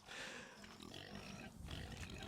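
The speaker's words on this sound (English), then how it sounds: "I hear pigs." Pigs in the video game My Liege give faint, low grunting oinks, heard quietly and close together throughout.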